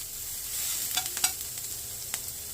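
Vegetables for veg noodles stir-fried in a hot pan over high heat, giving a steady close sizzle with a few sharp scraping clatters of the spatula.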